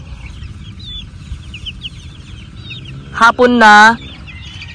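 Farm chickens clucking and calling in short bursts over a low outdoor murmur, with one loud, near, drawn-out squawk toward the end and a brief voice speaking just before it.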